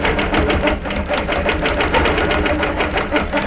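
A longarm quilting machine stitches a pantograph pattern, its needle hammering in a fast, steady rhythm of evenly spaced beats, close and loud with its motor hum running underneath.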